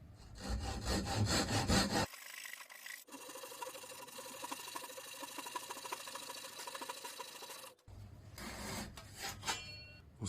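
Hand saw cutting a wooden tenon for a workbench, with steady rasping back-and-forth strokes close by, broken by a brief pause and a short change in rhythm partway through.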